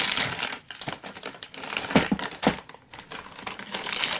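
Plastic packaging of a Rudolph action figure from Rudolph and the Island of Misfit Toys being torn open, with close, continuous crinkling and crackling and a few sharper rips.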